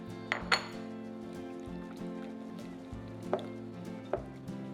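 Shrimp tossed through a lemon zest marinade in a bowl, with a couple of sharp clinks and scrapes of utensil against the bowl early on and a few softer knocks later, close and quiet over a low background hum.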